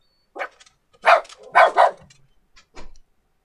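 A dog barks somewhere nearby, probably from another room, in three or four separate yips and barks with short gaps between them, standing clearly alone over a quiet background.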